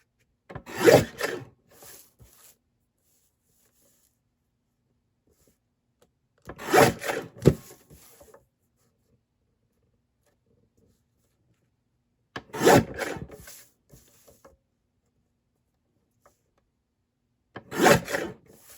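Printed card stock signage is cut in four separate bursts of close scraping and slicing, each lasting about a second and split by long stretches of silence.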